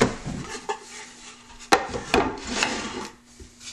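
Knife cutting through a strip of wood inlay banding, with scraping, rasping strokes and a few sharp clicks, close and fairly quiet with no talking.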